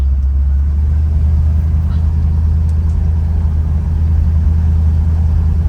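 A 1964 Ford Galaxie with its stock V8 on its first drive, a steady, loud low engine rumble and road drone heard from inside the cabin, continuous and unbroken throughout.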